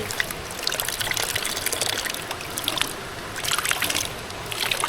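Water runs and splashes steadily while a car is washed outdoors, a continuous close hiss of pouring and trickling with no voices.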